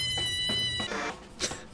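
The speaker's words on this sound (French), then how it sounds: "une deuxième vidéo de chat" A cat meows from a played-back phone video, a couple of drawn-out, whiny calls with a strained, caterwauling edge, fairly close and alone without talk.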